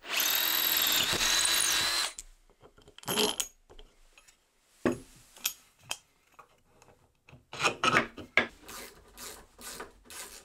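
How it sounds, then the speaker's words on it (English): A drill bores through the wood of a workbench to make a bolt hole, a loud whine for about two seconds, followed by scattered knocks, rasps and handling noises. "I can drill all the way through so the bolt can go through it."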